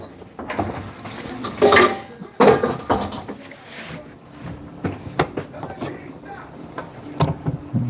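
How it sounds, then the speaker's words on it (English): A spoon scrapes and knocks against a cooking pot while food for a homemade dinner is stirred, giving irregular metallic clatters and scrapes at close range, with some speech mixed in. "Gotta keep giving a stir and then make sure nothing's sticking to the bottom."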